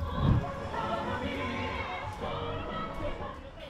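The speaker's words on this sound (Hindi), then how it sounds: "ये भीड़ महाभियोग झेल रहे दक्षिण कोरिया के राष्ट्रपति के विरोधियों की है जो उनके घर के बाहर जमा है।" Protesters against South Korea's impeached president gather outside his house, a close, busy crowd murmur with scattered voices and a brief louder swell at the start.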